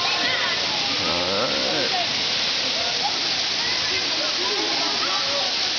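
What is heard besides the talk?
Olemoe Waterfall on the island of Hawaii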